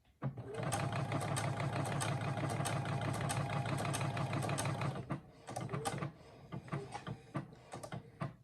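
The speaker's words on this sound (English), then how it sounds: "now I'm gonna tell it to sew towards my right" A Brother SE1900 sewing machine runs its side-sew stitch toward the right, a fast, dense mechanical whir of rapid needle strokes for about five seconds, then stopping into scattered clicks and short motor stutters, close up with no talk.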